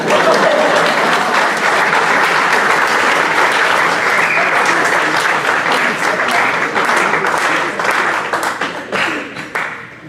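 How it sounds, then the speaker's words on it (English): A church or youth-conference audience gives a long, loud, steady round of applause that fills the room, tapering off near the end. "So, yeah, you can clap."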